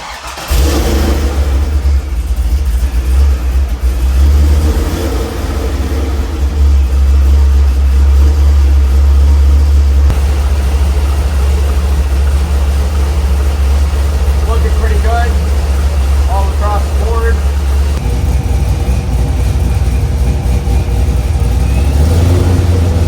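A supercharged Chevrolet Corvette C5 V8 runs close by, a loud, heavy low rumble that holds steady with a few blips of revving partway through, while voices are heard over it.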